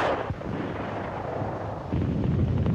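Rifle gunfire from the 1944 street fighting in Paris around Notre-Dame, heard as dense, continuous crackling bursts over rough background noise with no talking, a little heavier near the end.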